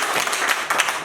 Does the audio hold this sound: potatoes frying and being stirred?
no